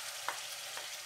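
Garlic, ginger and green chili paste frying in a pan for Lahori chana, a faint steady sizzle with two brief stirring scrapes over about a second.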